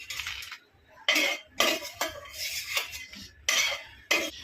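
A metal spoon clanks and scrapes against a pan as cashews fry for sheer khurma, in sharp irregular bursts of clinking with quiet gaps between them.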